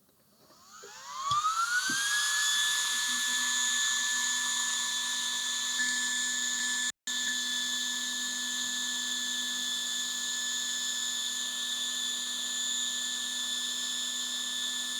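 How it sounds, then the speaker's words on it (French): The original cooling fan of a Begode RS electric unicycle spins up and runs steadily with a high, whining hum and a low drone, continuous and fairly loud, with one brief dropout. "première mesure avec le ventilateur d'origine"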